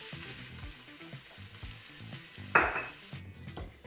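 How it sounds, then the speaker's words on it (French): Onions sautéing in a drizzle of oil in a pan make a continuous close sizzle with light spatula scrapes and one sharp louder burst of crackling near the end. "on met un filet d'huile pour faire sauter nos oignons"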